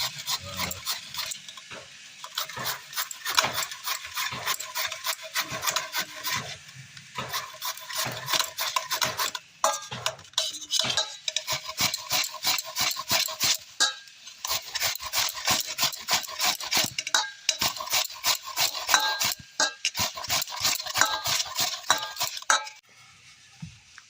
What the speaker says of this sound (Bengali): এই যে কচু কুচানো হয়ে গেল